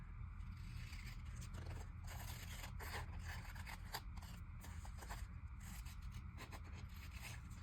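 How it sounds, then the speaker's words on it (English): Scissors snipping closely around a paper cut-out for a craft project, a continuous run of quick crisp scraping cuts at low volume with no talking. "I'm gonna fussy cut this one a little bit."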